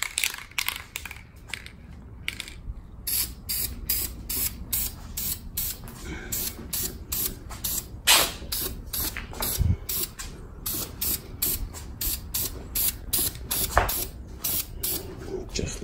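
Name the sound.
spraying a painted art piece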